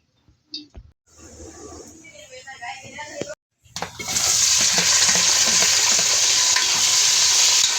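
Meat sautéing with spices in a cooking pot, a steady loud sizzle that swells and holds after a few clinks and a short pause, with a voice speaking over the frying.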